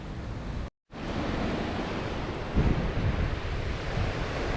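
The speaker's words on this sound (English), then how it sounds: "The waves are just so extreme and ferocious." Extreme, ferocious waves crash on the Scottish coast in a loud, continuous roar mixed with wind buffeting the microphone, cut by a brief dropout and swelling again with a heavier surge.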